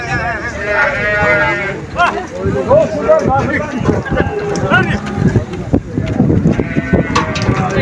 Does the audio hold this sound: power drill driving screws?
no